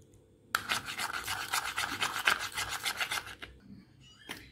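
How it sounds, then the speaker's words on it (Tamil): Homemade paint being mixed by hand in a container, a steady scraping, rasping stir with rhythmic strokes running close up for about three seconds, then stopping with a brief final scrape. "நல்லா நீங்கள் மிக்ஸ் பண்ணிக்கிட்டே இருக்கணும்."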